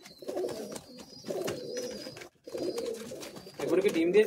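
Close, rolling coos from Madrasi high-flying pigeons in a Kolkata loft come in three or four throaty bursts separated by short pauses, with faint higher chirps and a voice briefly heard.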